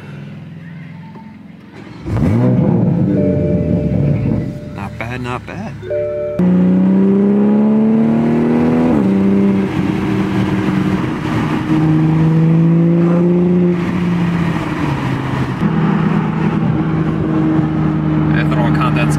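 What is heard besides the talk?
Toyota Supra with Tomei exhaust starting and revving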